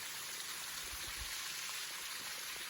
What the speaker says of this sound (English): Nice little flow right here as it comes under the bridge.